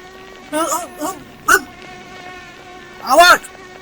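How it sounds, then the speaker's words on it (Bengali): Mosquitoes buzz in four short, whining bursts that come close and fade, separated by quiet gaps over a faint steady tonal background. "বড় বড় মশা! এ মশা না পাখি?"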